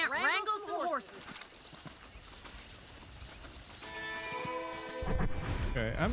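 Horses in the Western video game Red Dead Redemption, heard as in-game sounds alongside scattered game effects and music, with a character's voice speaking briefly at the start.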